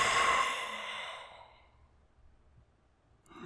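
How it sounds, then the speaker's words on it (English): A single long, breathy exhale, close and fairly loud, that fades away over a couple of seconds into near silence, with a faint rustle at the end. "How are the breathing noises?"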